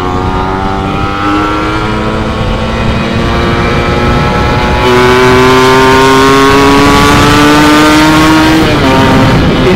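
A motorcycle engine fitted with a TM34 carburetor revs loud and close for about ten seconds, its pitch climbing steadily and then jumping higher and holding, with no voices over it.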